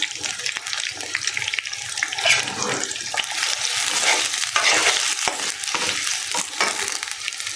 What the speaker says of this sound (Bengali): এখানে আমার পেঁয়াজটা ভাজা হয়ে গেছে, লালচা কালার হয়ে গেছে